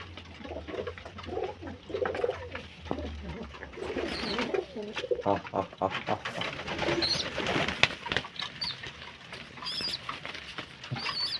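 Pigeons being fed paddy grain and seed feed coo repeatedly with soft scratchy pattering of feeding, under steady close talking throughout.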